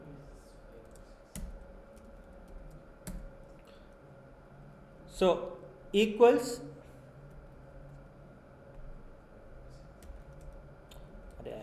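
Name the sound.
typing on a computer keyboard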